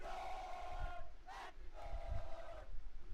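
An esports arena crowd at a Valorant grand final roars and chants in rising, rhythmic waves, loud and energetic, with shouted voices cutting through in bursts.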